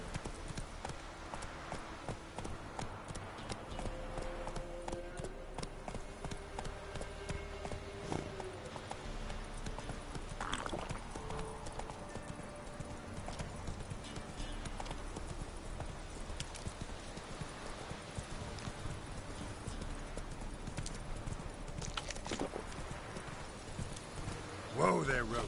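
Roach the horse gallops in The Witcher 3, hooves clip-clopping in a steady quick rhythm throughout, with a brief whinny and game sounds around it.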